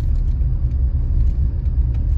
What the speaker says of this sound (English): I'm in a car.